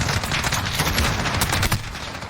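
Loud, dense rapid-fire automatic gunfire in a competitive video game match between esports teams Invoked and Iconic, with overlapping bursts and shots filling the whole stretch, close and continuous.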